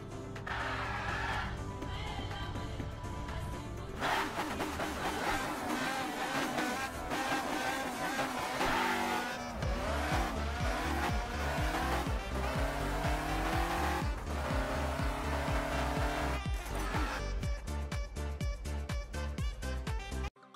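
A Porsche 911 in Car Parking Multiplayer drives hard with a steady, loud engine drone and repeated tire squeals, the engine note rising and shifting throughout with no voices.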